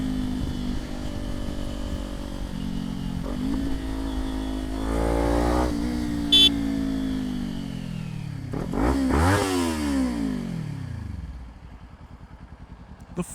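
Kawasaki Ninja 400 motorcycle ridden on a road, engine loud and close, revving up and down through gear changes with a sharp rise and falling pitch near the end, then settling to a lower steady drone.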